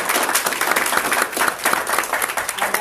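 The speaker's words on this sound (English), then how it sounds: "So let's give them a round of applause," Round of applause for the staff at a school district meeting, a lively burst of many hands clapping at close range, steady and irregular throughout.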